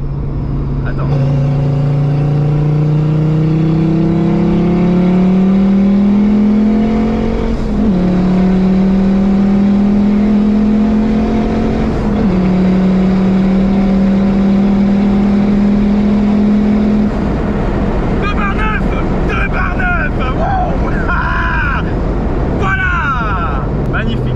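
A turbocharged car engine of roughly 400 horsepower climbs through repeated long revs, its pitch rising in steps as it accelerates, loud and close, with a burst of fluttering, crackling sounds near the end.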